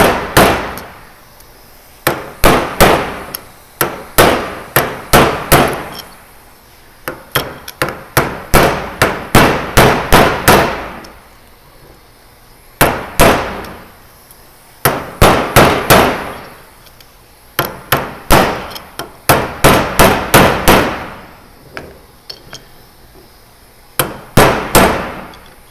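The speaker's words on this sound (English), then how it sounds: "might need a bigger hammer" Repeated hammer blows on a Mazda Miata differential during a Torsen swap: loud, sharp metallic strikes in quick bursts of several hits, with short pauses between the bursts. No talking.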